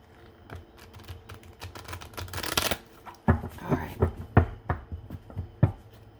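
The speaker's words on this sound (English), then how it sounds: "let me give this a quick shuffle" Large cards are shuffled with a riffle, then several crisp, separate slaps and taps follow at an uneven pace, close up, with no one talking.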